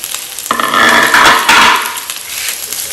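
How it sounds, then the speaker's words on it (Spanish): Onion and garlic frying in a pan, a loud steady sizzle that swells and fades over a few seconds with scraping stir noises and no talking. "a darle unos minutitos a la cebolla y al ajo"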